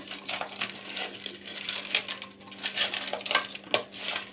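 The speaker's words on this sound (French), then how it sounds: "Nous allons bien mélanger nos crabes dans le citron et du sel." Crab pieces are mixed by hand with lemon and salt in a bowl, giving continuous close clinking, scraping and wet shuffling of shells against the dish, with no talk.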